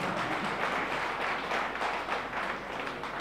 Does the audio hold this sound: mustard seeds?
no